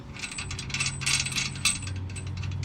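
Rapid ratchet clicking from a wrench tightening the bottom bolt of a shock absorber on a 2000 Ford F250 with a 7.3 Powerstroke, steady close-up metallic ticks over a low background hum, no talking.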